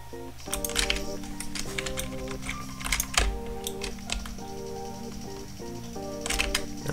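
Computer keyboard keys pressed rapidly during a PC game of Battlefield Heroes, irregular clicking taps mixed over steady game music and effects.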